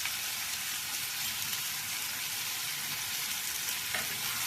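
Oil sizzling steadily in a pan as turmeric powder is sautéed for a chicken egg gravy, a dense continuous frying hiss with faint stirring scrapes, close and unbroken.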